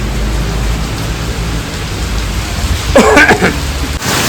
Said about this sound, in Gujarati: આજે કાલે જે પ્રમાણે વાવાઝોડું ને વરસાદ હતો એ રીતે આજે પણ વરસાદ ચાલુ થઈ ગયો છે.